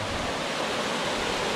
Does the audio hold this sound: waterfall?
yes